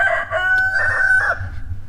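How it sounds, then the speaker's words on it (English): A rooster crows over a steady low rumble of background noise, the call drawn out across most of the moment at moderate distance. "If you hear a rooster crowing in the background,"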